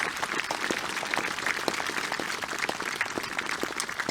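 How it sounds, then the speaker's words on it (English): Applause at a 2021 high school commencement for National Honor Society seniors, a continuous crowd clapping with distinct individual claps, somewhat distant and moderate in level. "Let's give our National Honor Society seniors a round of applause."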